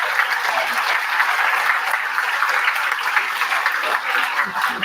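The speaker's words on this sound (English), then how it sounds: "can we give everybody a round of applause for today?" A crowd's sustained applause at the close of a youth demo day event, steady dense clapping throughout with faint voices and light laughter mixed in.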